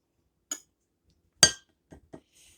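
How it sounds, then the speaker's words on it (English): Spoon knocked against a bowl to shake off macaroni salad, a few sharp clinks: one light tap, a louder knock, then two quick softer taps, close and isolated in silence. "I am going to just get this off my spoon"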